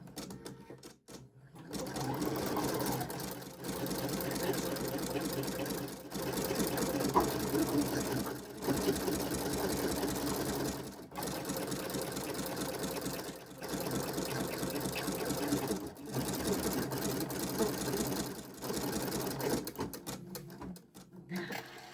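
An embroidery sewing machine stitching out lace, a steady rapid mechanical chatter running in long bursts with brief pauses, close and continuous, with a voice now and then under the noise.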